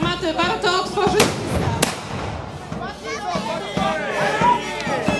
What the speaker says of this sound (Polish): Następują pierwsze wymiany ognia.